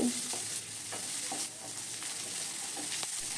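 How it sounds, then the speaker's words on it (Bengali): Sliced onion and chilli fry gently in a pan on a low flame for chichinga aloo, giving a soft continuous sizzle broken by a few scraping stirs, close with no voices. "সব কিছুকে নেড়ে চেড়ে নিয়ে দু তিন মিনিটের জন্যে হালকা হালকা করে ভেজে নেব"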